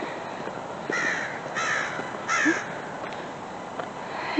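A crow caws three times outdoors in the morning, the harsh calls fairly close and spaced about a second apart over quiet background ambience.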